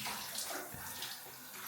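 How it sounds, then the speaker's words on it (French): Shower running in a bathroom, a steady close hiss of spraying water with no break. "il y a Cerise et Gopal qui prennent la douche"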